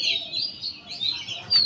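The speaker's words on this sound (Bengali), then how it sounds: "এটা দোয়েল পাখি" An oriental magpie-robin calls outdoors with a run of bright, high whistled chirps, moderately near, ending in a sharper burst.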